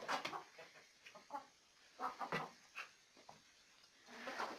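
Chickens cluck and murmur in short irregular bursts on a Zonguldak poultry farm, fairly close and quiet with no voices.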